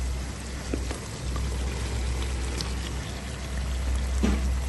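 Potatoes tipped into a pan of simmering curry for aloo matar, a steady sizzling, bubbling hiss with a few small drops and thuds, no voices.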